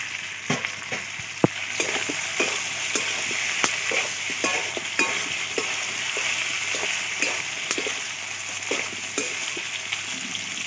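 Fried potatoes tossed into a village-style chicken curry in a pan, a continuous bright sizzle broken by rhythmic scrapes of a spoon stirring, repeating roughly every half second, close and fairly loud with no talking.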